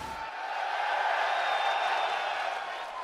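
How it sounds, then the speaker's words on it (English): A large crowd at a UFC pre-fight press conference in Miami roars in a sustained ovation, a dense wash of cheering and clapping holding steady throughout. "getting the ovation from this crowd right now"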